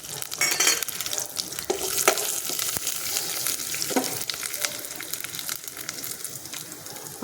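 Urad dal and fenugreek seeds frying in hot oil for a Goan raw mango curry, a bright crackling sizzle with stirring scrapes and clicks in the pan, close and fairly quiet, no talk.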